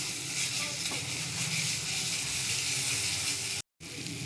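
Spices and ginger sautéing in hot oil in a pan, a dense, close, continuous sizzle with steady crackle that runs unbroken except for one brief cut to silence near the end.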